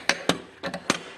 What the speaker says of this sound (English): banging with the brass drift, and it finally came out